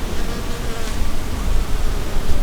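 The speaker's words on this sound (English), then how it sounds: "there are other types of little tiny honeybee-like insects that are on this plant" Bees and tiny honeybee-like insects buzz steadily around a tomatillo plant in a raised garden planter, a dense, continuous hum with no pauses and no talking.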